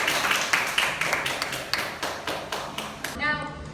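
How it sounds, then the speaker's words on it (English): A classroom of students clapping together in a school demonstration lesson, a steady run of sharp hand claps at moderate distance, fading toward the end. "give clap for everyone"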